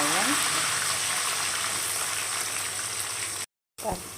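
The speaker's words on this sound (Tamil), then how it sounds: "எண்ணெய் விட்டு சோம்பு போட்டுக்கோங்க. இதில் பச்சை மிளகாய், வெங்காயம்," Fennel seeds and green chilies frying in oil, a steady close hiss and crackle that cuts off sharply near the end, followed by a brief clatter.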